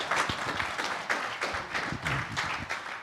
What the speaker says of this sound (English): Can we have a round of applause for our wonderful